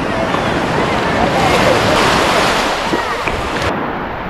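Sea waves surge and wash steadily at a scuba diving spot beside a swaying bridge, with strong wind buffeting throughout and no clear talk.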